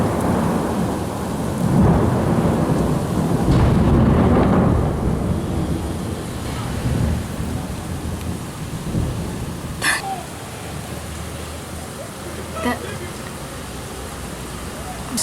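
A heavy thunderstorm pours rain continuously while rolling thunder swells loudly early on, then eases. Sharp crackles of nearby thunder break through later over the steady downpour.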